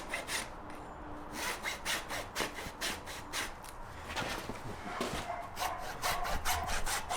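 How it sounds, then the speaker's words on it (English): A farrier's rasp files through a hoof cast on a horse's foot in rapid, rhythmic rough strokes, loud and close, with no talking. "I take the corner of my rasp to go through the hoof cast."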